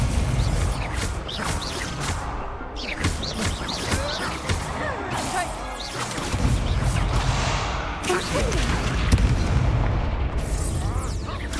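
Repeated Confringo blasting spells go off in Hogwarts Legacy combat, heavy booming explosions in quick succession amid constant battle noise, loud and close, with a voice shouting spell names throughout.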